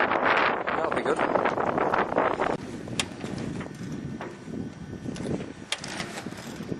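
Strong wind buffets a sailboat on an Atlantic crossing while the main is raised with a second reef. It makes a continuous loud rushing roar with gusty surges and scattered knocks, and muffled voices may sit underneath.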